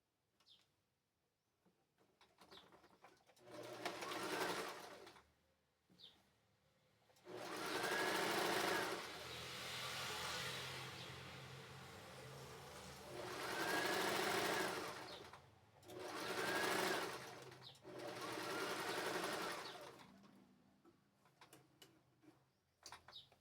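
Sewing machine stitching a seam on the back and front pieces of unisex shorts, with several sustained whirring runs of a few seconds each, separated by short quiet pauses, moderately close and with no talking.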